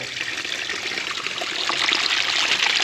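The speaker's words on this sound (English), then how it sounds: "As you guys can see how much water is coming out." Water streaming steadily from a small hole in a pipe, a continuous close splashing trickle that grows slightly louder and fuller as it goes on.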